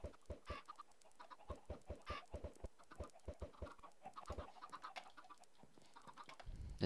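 Chickens clucking in the Minecraft video game, a rapid series of short, evenly spaced clucks heard alone with no talk, with a louder burst right at the end.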